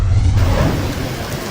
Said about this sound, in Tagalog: Malakas na ulan bumuhos sa Metro Manila